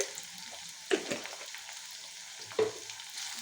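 Vegetables sizzle steadily in a hot pan with tempering spices, with two sharper stirring scrapes standing out over the continuous hiss.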